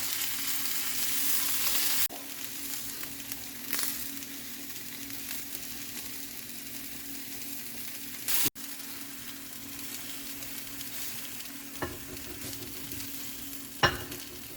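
Fresh garden vegetables sizzling in a hot pan, a steady crackling fry with occasional scrapes and clinks of stirring, close and moderately loud, with no talking.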